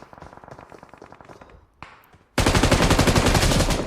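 Gunfire rings out in BGMI battle-royale gameplay: a string of rapid shots opens the clip, then after a short pause a loud, dense burst of automatic fire fills the rest of it.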